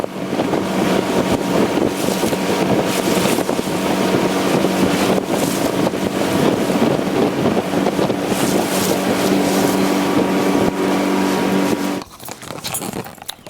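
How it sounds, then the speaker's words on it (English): A motorboat engine drones steadily with heavy wind buffeting the microphone, loud and continuous, then abruptly drops away near the end. "It's a nice boat there."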